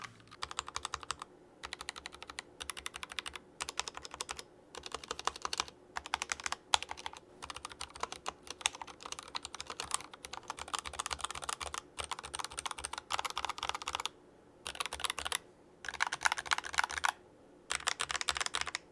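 Fast, steady typing on an Akko ACR keyboard built stock with lubed Jelly Pink switches. Close, soft keystrokes clatter in dense bursts separated by brief pauses, with no voices.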